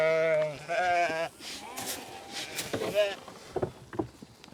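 Goats bleat repeatedly in a farm pasture near a pond, several harmonic calls close by at the start, then fainter rustling and scattered animal sounds as the herd mills around.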